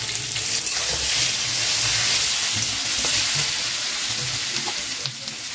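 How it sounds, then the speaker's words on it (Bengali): Pointed gourd frying in a pan with tomato just added, a loud, dense, continuous sizzle with occasional stirring scrapes. "পটলগুলো মোটামুটি ভাজা হয়ে গেছে, এই সময় আমি টমেটোটা দিয়ে দিচ্ছি।"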